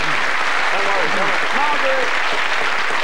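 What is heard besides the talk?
studio audience applause for the red team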